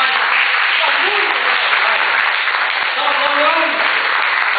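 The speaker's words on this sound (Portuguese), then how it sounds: "Um aplauso às companheiras mulheres" Steady, sustained applause from a crowd at a Landless Workers' Movement (MST) gathering in honour of the women comrades, loud and continuous throughout with faint voices mixed in.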